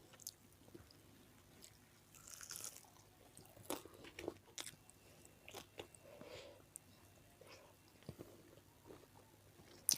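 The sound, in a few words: eating jengkol balado and fried chicken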